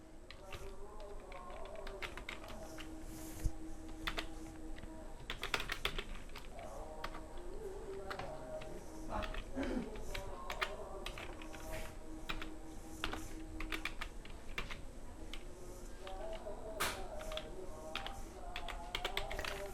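Typing on a computer keyboard goes on throughout, with quiet, quick key clicks in irregular bursts and scattered sharper keystrokes.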